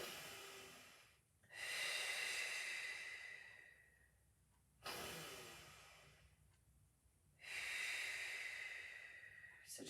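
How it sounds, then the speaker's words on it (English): Slow, steady breaths during Pilates lateral breathing, drawn in through the nose and let out through the mouth; long airy inhales and exhales alternate close to the ear, with no talking. "I'm breathing in through my nose and out through the mouth."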